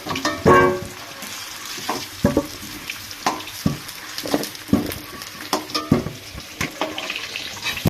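Potatoes fry in oil with a steady sizzle while a utensil stirs and scrapes in the pan, giving repeated clattering knocks close by, with no talk.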